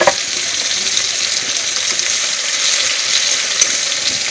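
Onion frying in hot oil for a pangas fish curry, a steady, close sizzling crackle that holds evenly throughout with no talking.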